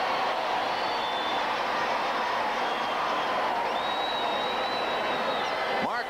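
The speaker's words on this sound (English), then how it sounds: "Crowd is no longer in silence." A football stadium crowd roars continuously after a Washington Redskins touchdown against the New York Giants, a loud, sustained wall of cheering with whistles rising above it.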